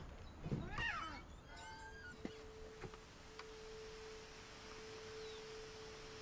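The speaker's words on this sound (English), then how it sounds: "I'm sure I can hear a cat." A cat meows in the video game What Remains of Edith Finch, a few short mewing calls early on, then faint chirps and a steady tone in a quiet game scene with no talking.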